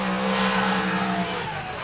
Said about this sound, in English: That Corolla is so fast.